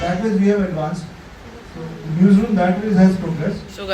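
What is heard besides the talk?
No everyday noise stands out behind the speech.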